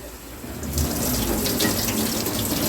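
Tap water gushes steadily into a sink while dried anchovies are washed, a loud, close, continuous splashing flow with no talking.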